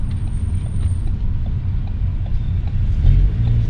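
A Ford Focus ST fitted with an aftermarket catback exhaust rumbles steadily at close range, a loud, even low drone that swells slightly near the end with no one talking.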